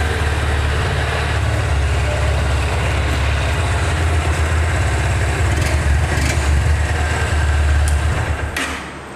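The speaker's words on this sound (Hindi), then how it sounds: "मैं एक बार इसके बाइक के साउंड को सुना देता हूँ।" A 2020 Honda Hornet 2.0 motorcycle engine idles close by with a steady, loud, throbbing rumble that holds the whole time, then drops off briefly at the end.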